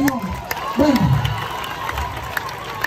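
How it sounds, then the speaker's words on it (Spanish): A church congregation at an evangelistic service applauds and cheers in a short, lively burst of crowd noise, with a voice rising briefly above it. "Dele aplauso al Señor."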